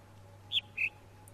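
A bird in the video game The Witness lets out a single two-note whistled call, a short falling note then a lower one, clear over a low steady background hum.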